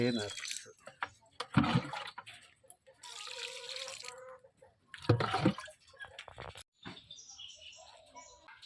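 Cow dung water is poured from a container onto garden plants at a Wayanad village home, with two short splashing bursts and a quieter trickle between them, while a voice talks intermittently.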